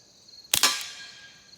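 One sharp, close crack comes from a suppressed FN 502 rimfire pistol, followed by a brief secondary snap and a short fading tail, set against faint background chirping.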